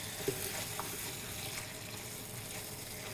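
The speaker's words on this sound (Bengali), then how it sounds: "এখন আমি এটাতে মাংসটা দিয়ে দিচ্ছি।" Mutton pieces dropped into hot oil in a pan for Bengali aloo gosht, giving a steady, close sizzle and frying hiss with faint watery stirring, no voices.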